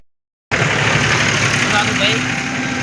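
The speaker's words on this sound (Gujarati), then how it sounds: "નવી રિક્ષામાં બેસી ગયા છીએ" A new auto-rickshaw carrying a group of friends on a trip to Dwarka runs its engine in a steady, loud, continuous drone after a brief silence, with indistinct voices faintly mixed in.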